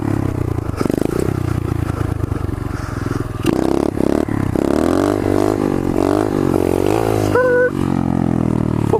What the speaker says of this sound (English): I love doing third gear wheelies.